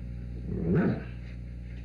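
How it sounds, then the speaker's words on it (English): A dog gives a short, close whimpering whine with a brief yip-like edge, rising and falling within about a second over a constant low room hum. "Look at this bad doggy."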